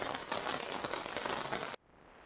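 Heavy rain falls on a campsite near a campfire, a dense steady patter with faint crackles that cuts off abruptly near the end, leaving quiet background.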